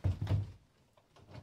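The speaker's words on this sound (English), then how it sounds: "I'm literally coming through the door right now." A door is pushed open as someone walks through, with a couple of close, heavy thuds at the start followed by quieter shuffling movement.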